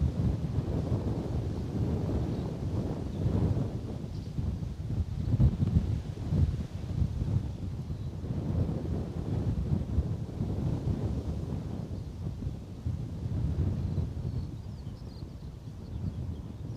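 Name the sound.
wind buffeting the airport camera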